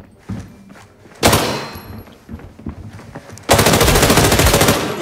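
Automatic gunfire from a weapon in a mobile FPS video game: a couple of short bursts and scattered shots, then a longer loud sustained stream of rapid fire, with no talk over it.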